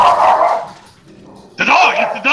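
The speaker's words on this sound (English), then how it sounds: "The dog! It's the dog!" A dog barks in the Garry's Mod Prop Hunt video game: two loud, close barks, the second after a short quiet gap, with a voice partly overlapping.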